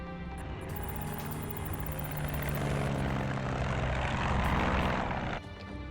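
A propeller airplane flies past, its steady engine drone loud and continuous throughout, swelling slightly before dropping off abruptly near the end.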